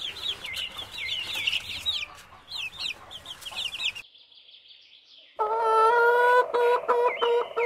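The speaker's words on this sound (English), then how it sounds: "Hen." A hen on a farm clucks in quick repeated calls over low background noise, then goes quiet before a louder, more drawn-out run of squawking calls from close by.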